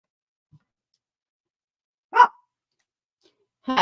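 A dog lets out two short, isolated barks, the second trailing off as the clip ends, in an otherwise quiet indoor room.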